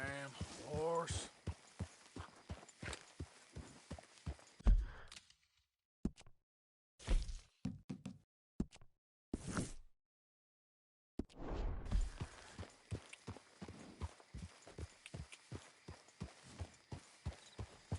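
Horse hooves clip-clopping in the video game Red Dead Redemption 2, a quick regular run of hoofbeats that breaks off into scattered, uneven steps and then resumes, with a voice talking over parts of it.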